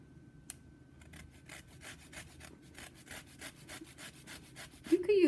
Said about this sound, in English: That's only because I'm zesting.